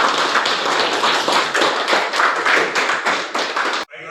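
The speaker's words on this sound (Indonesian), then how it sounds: "Tepuk tangan untuk kelas kita ini." Schoolchildren in a classroom clap together in loud, steady, rhythmic unison bursts, close and continuous before stopping abruptly near the end.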